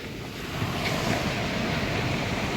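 Ocean waves on a beach before sunrise in winter, a broad low wash of surf mixed with wind rumble that swells after the opening moment and holds steady, fairly close with no talking.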